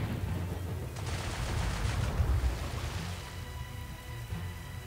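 Rapid video game gunfire against the Lady of the Lake boss in Jamestown: Legend of the Lost Colony, a dense crackling burst of shots over a low rumbling backdrop, easing off after a few seconds.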